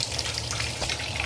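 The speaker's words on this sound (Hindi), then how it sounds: "अब जाके पानी आ रहा है किचन में" Water gushes from a kitchen tap in a steady, close, hissing stream that stays even throughout with no talking.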